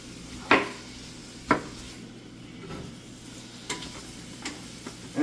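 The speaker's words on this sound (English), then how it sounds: "we're just going to give this a rough chop" A knife roughly chops mushrooms on a cutting board in a loose, uneven rhythm of distinct close thuds, two strong strokes and then lighter ones, over a low kitchen hum and no speech.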